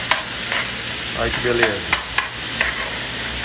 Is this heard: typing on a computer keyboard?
no